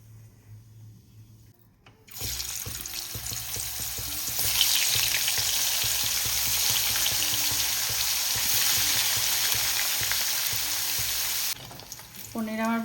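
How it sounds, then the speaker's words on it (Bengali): Paneer sizzling and frying in white oil seasoned with salt and turmeric, a loud, steady hiss of spitting oil with faint stirring clatter, running continuously after a quiet start and cutting off near the end. "এবার আমি পনিরটা ভাজবো। সাদা তেল দিয়েছি, একটু লবণ দিলাম"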